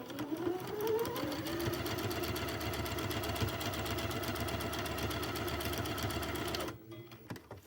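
A sewing machine stitching a bias-edged fabric piece, a loud continuous rapid needle rhythm with a motor hum that runs steadily for several seconds and then cuts off abruptly.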